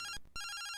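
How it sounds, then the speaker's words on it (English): Incoming phone call ringtone in a Pokémon fan video game, a short electronic ringing tone in two bursts separated by a brief gap, clean and fairly quiet. "We got a phone call."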